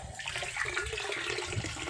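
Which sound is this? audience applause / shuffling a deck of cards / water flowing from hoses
water flowing from hoses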